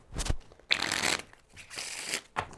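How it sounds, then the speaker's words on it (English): Rapid riffling shuffles of a deck of playing cards, several crisp bursts close up, with brief pauses between them and no talking. "Let me do one more shuffle, actually."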